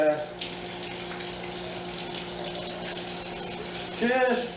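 Lukewarm tap water runs steadily into a bowl for bread dough, a continuous close hiss with brief clatter near the end.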